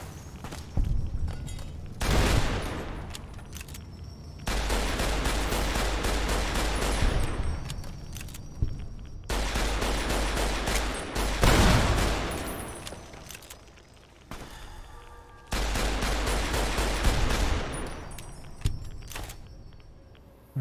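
Weapon fire in the video game Fallout: New Vegas, Lonesome Road area, heavy repeated blasts in four long loud bursts separated by brief quieter gaps, booming and dense.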